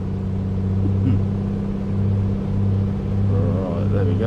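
Piston engine of a Piper Comanche in a flight simulator, held at 2000 RPM during a run-up: a loud, steady droning hum with a constant low tone and no break.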